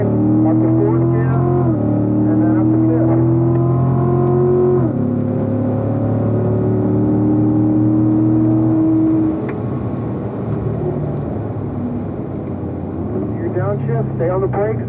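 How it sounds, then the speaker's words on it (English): A race car engine runs at full throttle on a track, loud and close, revving up through gear changes with sharp pitch drops between rising sweeps, then settling into a steady roar. "Full throttle from there on out."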